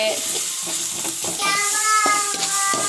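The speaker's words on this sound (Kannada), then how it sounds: "ಈಗ ಫ್ರೈ ಮಾಡ್ತವ್ರೆ ಭಟ್ರು" Onions, tomatoes and beans frying for egg rice make a constant sizzle with clinking stirs and scrapes, while a voice and other tonal sounds run over it.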